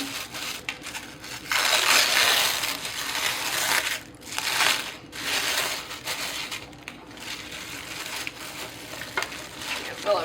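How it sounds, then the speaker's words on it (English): Crinkling and tearing of plastic wrap being pulled off a chilled cinnamon tres leches cake layer, close and fairly loud in uneven bursts, with no talk. "So I'm gonna unwrap it."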